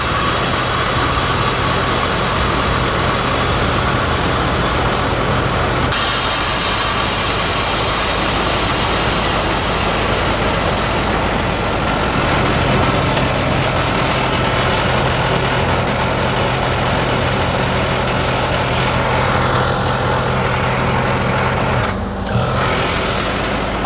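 A BMW E30 318i with the M40 engine idles steadily and loudly up close, a constant low drone with a faint fan hiss running the whole time, no speech over it.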